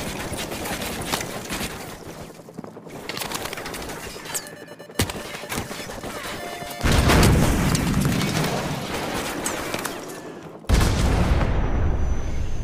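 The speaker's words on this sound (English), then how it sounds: "So, grab another Stinger and fire again!" Stinger missile launches and explosions ring out in the Modern Warfare Remastered campaign. Loud, dense gunfire, rumbling booms and several sudden blasts follow one another, with no voices.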